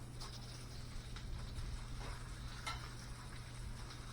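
Bacon frying in a cast iron pan, a soft steady sizzle and crackle with a few faint utensil clinks, fairly quiet and heard alone over a low background hum.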